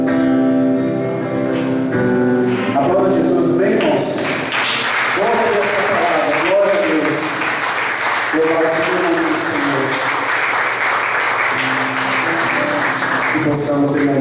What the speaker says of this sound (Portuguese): Aplauda Jesus bem, irmãos